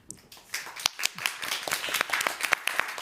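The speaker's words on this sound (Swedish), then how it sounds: "En stor applåd!" Audience applause greeting a guest on a stage talk show, scattered claps that build into thin, uneven clapping over a quiet room.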